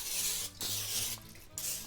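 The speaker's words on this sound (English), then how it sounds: "now I'm spraying it with cooking spray" Cooking spray hisses from an aerosol can onto a foil-lined baking sheet in a kitchen, three broad bursts separated by short pauses, close and fairly loud, with no talking.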